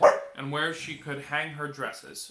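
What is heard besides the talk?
pet dog Allie barking at something outside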